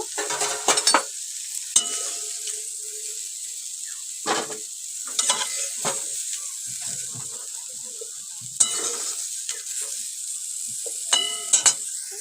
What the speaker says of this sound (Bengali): খুব ভালো করে ভেজে নেব আমরা ফুলকপিটাকে ফুলকপিটা একদম লাল লাল করে ভাজাও হয়ে গিয়েছে